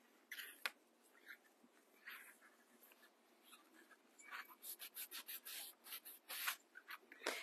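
Wax being rubbed by hand onto black-painted pallet-style wood on a cross kit, giving soft broadband scrubbing strokes, sparse at first and then a quicker run of short rhythmic rubs, close and fairly quiet.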